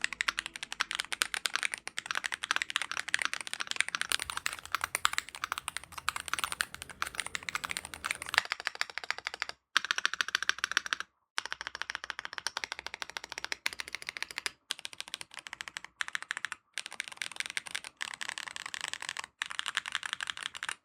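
Fast, continuous typing on a Womier SK75 75% keyboard with pre-built Womier Void magnetic switches. The keystrokes are close-miked and clacky, with a few brief pauses in the second half and no voices.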